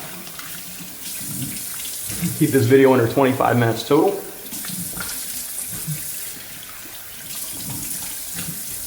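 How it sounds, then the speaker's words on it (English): Cold tap water runs steadily into a bathroom sink for a rinse after a straight-razor shave, an even close hiss throughout while someone talks briefly in the middle. "let me go ahead and finish my rinse off here with cold water"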